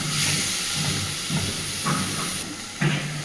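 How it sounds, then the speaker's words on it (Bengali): Spices and potatoes sautéing in oil, a soft hiss under several brief stirring scrapes spaced about half a second apart. "সুন্দরভাবে মশলার কাঁচা গন্ধ চলে যাওয়া পর্যন্ত আলুর সাথে সব কিছুকে ভালোভাবে কষে নেব।"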